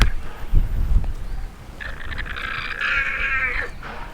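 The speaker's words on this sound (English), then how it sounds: "There's the sound of a threatened alpaca." A threatened alpaca lets out a sustained, wavering high-pitched alarm call that follows a few low thumps and rustles, fairly close and loud over steady outdoor background noise.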